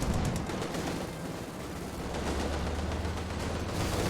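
Machine gun and artillery fire in the World War II strategy game Company of Heroes 2, a dense continuous clatter of gunfire with heavy rumbling blasts underneath, loud and sustained throughout.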